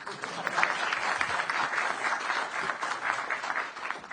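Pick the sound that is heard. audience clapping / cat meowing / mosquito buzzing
audience clapping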